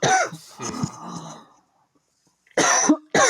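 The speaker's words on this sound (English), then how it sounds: "I'm going to mute for just a second so that I can cough" A person coughs in short harsh bursts, a cluster at the start, then a pause, then two more sharp coughs close to the microphone.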